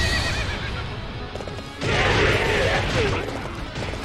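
Horse in Warriors Orochi 3 neighs loudly with a shrill whinny, then gallops off in rapid clip-clop hoofbeats under battle clatter, close and busy.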